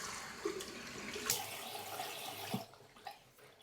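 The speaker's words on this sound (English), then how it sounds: "What I do now is I rinse my face with warm water" Warm water splashing and running as a face is rinsed after a safety-razor shave, a steady close wash of trickling water with a few louder splashes, no talking.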